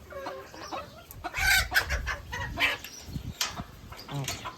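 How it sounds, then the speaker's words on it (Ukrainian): Several chickens, including black-skinned ones, cluck and squawk close by in a farmyard in short, irregular bursts, with a white rooster's call among them. "Ось це чорношкури, такий біленький півник, курочка."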